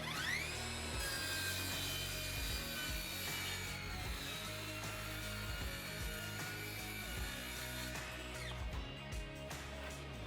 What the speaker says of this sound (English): We are going to do some speed tests and just do a cross cut across the 1/2-inch sheet of plywood.